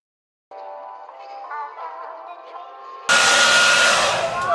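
A handheld hair blow dryer runs steadily on a cool and warm setting, then jumps abruptly to a much louder, fuller rush of air partway through, close and continuous.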